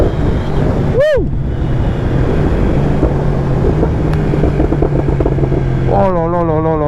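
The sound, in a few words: Yamaha R1 sport motorcycle engine downshifting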